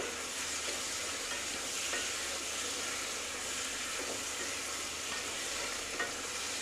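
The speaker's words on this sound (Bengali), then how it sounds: "ভাজা বড়িগুলো আমি এতে দিয়ে দিলাম।" Fried lentil dumplings (bori) dropped into a vegetarian ridge gourd curry, raising an even, broad sizzling hiss with faint stirring scrapes, close but soft and steady, no voices.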